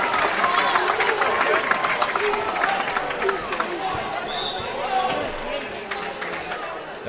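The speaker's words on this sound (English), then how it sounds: "And the crowd goes wild." Indoor teen volleyball tournament crowd in a gym, a dense sustained roar of cheering and clapping with scattered sharp claps, voices mixed through the noise at steady loudness throughout.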